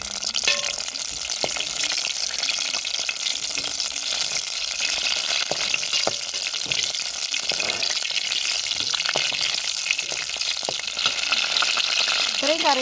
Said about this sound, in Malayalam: ഇതിൽ വറുത്ത് കോരണത്.